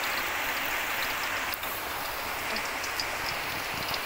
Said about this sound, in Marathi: मोठा तर पाऊसच पडलेला आहे